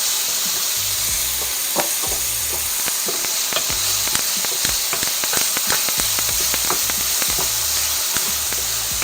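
Onions frying with a little seasoning and oil in a pan: a constant loud sizzle with frequent sharp pops and spatters throughout, heard up close without speech.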